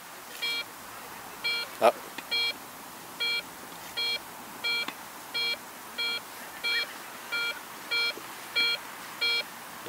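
A Garrett ACE 150 metal detector sweeps over a coin hidden in a lawn, giving a steady series of short, clear electronic beeps roughly every half second, with a brief voice and a clunk early on.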